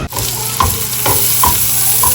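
Chopped onions fry loudly in a pan with a dense, close sizzle, punctuated by a few quick scrapes of stirring in a home kitchen.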